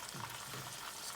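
Chicken pieces sizzle and fry in a masala gravy for murg musallam, a soft, steady crackle heard close with no voices.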